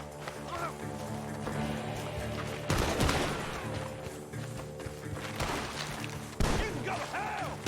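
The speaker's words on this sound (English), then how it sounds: "The gunshots are coming from that barn." Bursts of gunfire crack over a steady, droning Red Dead Redemption 2 game soundscape, with a heavier volley near the middle and another toward the end, the shots coming from a barn.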